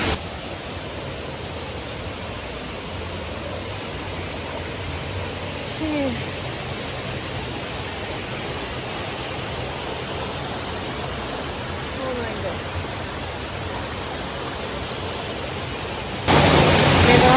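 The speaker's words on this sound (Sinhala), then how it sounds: "පහන් ඇල්ල අපි සිංහරාජාව දෙවැනි ඇල්ල." Pahan Ella waterfall in the Sinharaja rainforest gives a steady, even rush of falling water, a constant broadband roar that holds level throughout and grows louder and nearer at the very end.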